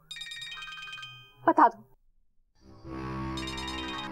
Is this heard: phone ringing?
yes